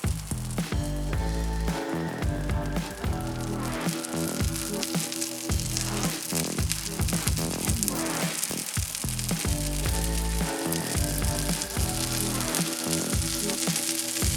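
Steady, dense sizzling of butter frying in a hot cast iron skillet, loud and close, crackling continuously with no voices.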